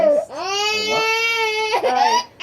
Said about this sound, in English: So she's crying because it stings.